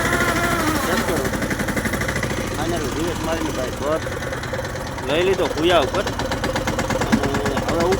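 A tractor engine's steady low rumble runs throughout during peanut harvesting, with someone talking over it for most of the clip.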